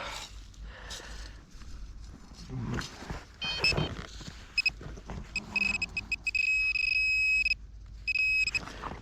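Metal detector sounds a steady high electronic tone in repeated bursts over a buried object in soil, alongside close rustling and digging noises.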